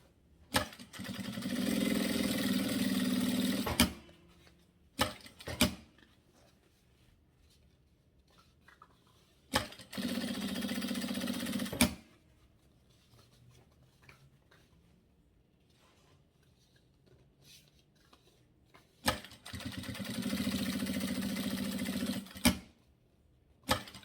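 Sewing machine topstitching a fabric cable organizer, three bursts of rapid, even mechanical whirring a few seconds each, separated by quiet gaps with small clicks and handling sounds.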